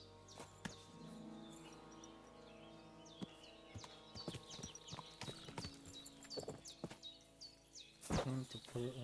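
Horse in the medieval video game Kingdom Come: Deliverance II, hooves clip-clopping in irregular steps nearby with snorts and shuffling, birdsong in the background and occasional brief voices.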